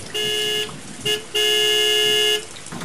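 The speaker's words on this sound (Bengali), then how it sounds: "পেছন থেকে একটা হর্ন শোনা গেল" A vehicle horn honks from behind on a road: one short toot, a brief blip, then a longer sustained blast, loud and clear with no talking.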